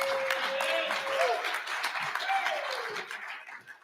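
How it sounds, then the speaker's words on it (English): Conference audience applauds a man called up on stage, a broad wash of clapping with a speaker's voice over it, tapering off at the close. "Everybody give a round of applause from Logan from K-Post"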